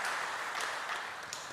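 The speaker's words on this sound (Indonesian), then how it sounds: "beri tepuk tangan untuk panitia yang bekerja secara luar biasa." An audience claps steadily for the organizing committee at the inauguration ceremony of the GKI Puri Indah church in Jakarta, a dense, even wash of applause with no break.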